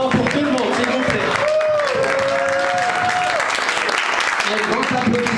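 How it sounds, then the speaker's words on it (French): A crowd in Sidi El Houari, Oran, applauds steadily throughout, with voices mixed in over the clapping. "l'Atekom Saha, un grand applaudissement pour tout le monde, s'il vous plaît"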